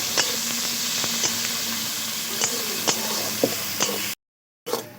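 Finely chopped onions fry in hot oil for a mustard chicken curry, giving a continuous close sizzle broken by occasional stirring scrapes, then a brief dropout near the end.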